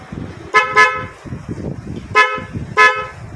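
Motorcycle horn wired without a diode, sounding in four short bright honks in two close pairs over a low engine rumble, loud and near.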